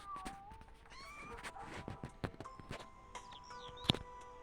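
A cat meows in a home with several other cats around, thin high calls rising and falling amid clattering and shuffling background sounds, with one sharp louder click near the end.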